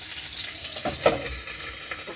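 Chicken frying in a pan gives a steady close sizzle with occasional louder pops and crackles, alone without talk.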